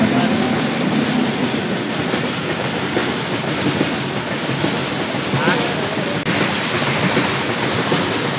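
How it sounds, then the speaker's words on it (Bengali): A goods train rumbles past a closed railway crossing gate in a steady, loud, continuous roar with faint clatter throughout, a brief sharp click near the end. "আরেকটা ট্রেন আসছে এদিক থেকে"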